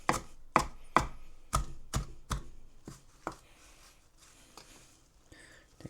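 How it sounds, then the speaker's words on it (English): A knife chops food on a cutting board for a mango chicken bowl, a series of sharp close knocks, quick and fairly regular at first, then slower and fainter taps trailing off, with no talking. "Run your knife over one more time."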